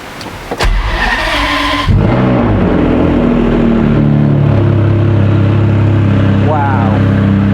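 Ferrari 599 GTO V12 cold start from inside the car: a starter click, then the engine catches with a loud bark and settles into a steady rumbling high idle, with a voice heard briefly.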